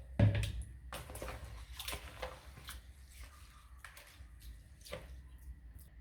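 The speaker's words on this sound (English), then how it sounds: "I like soaking my rice in the water" Water is poured over basmati rice in a bowl to soak it, a close, continuous splashing and gurgling with a sharp burst at the start, then softer irregular trickles and drips, with no voices.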